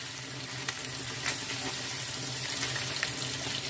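Onion and carrots frying in a pan, a steady close sizzle with soft crackles and a few stirring clinks, no talk.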